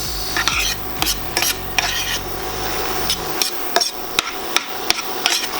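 Sloppy joe mixture of cooked ground beef, ketchup, brown sugar, salt, pepper and garlic powder being stirred in a pan, heard as a loud scraping and stirring with repeated sharp clanks of a utensil hitting the pan, up close and with no talk.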